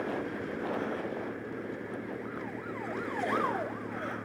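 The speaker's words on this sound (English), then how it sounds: "Ooh, police car." A police car siren wails in rising and falling sweeps from a distance, faint and continuous over low road and traffic noise on Canvey Island.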